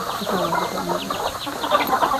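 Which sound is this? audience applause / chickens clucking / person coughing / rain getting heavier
chickens clucking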